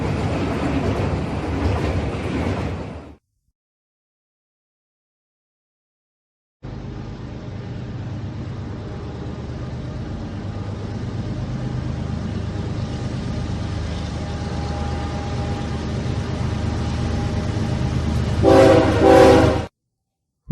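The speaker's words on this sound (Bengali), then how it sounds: "বেলা 12টা নাগাদ ট্রেনটা নূপুরগঞ্জ স্টেশনে এসে পৌঁছল" A cartoon train sound effect in a Bengali ghost story: a brief rumble, a silent gap, then a long steady rolling clatter of wheels building to a loud horn blast near the end.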